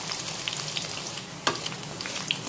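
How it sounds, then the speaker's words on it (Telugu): Onions frying in oil for a chicken curry, a steady close sizzle with soft crackles and a few brief stirring clinks, no voices. "ఆయిల్లో ఆనియన్ వేసుకుని వేపేసుకోవాలి"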